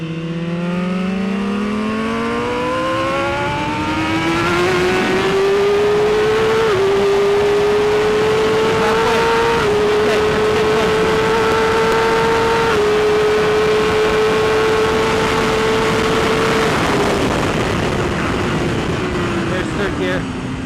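A 2016 BMW S1000RR motorcycle on a race track screams as it accelerates, its loud engine note climbing steeply through the gears and then holding a high, sustained howl before easing off near the end.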